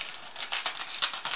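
Scissors snip through crinkly British snack packaging in quick, irregular bursts of rustling and crackling, close and fairly soft.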